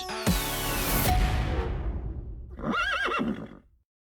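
A horse in a TV advert gives a loud, quavering neigh near the end, after a dense burst of roaring, sweeping music and effects, with no talking.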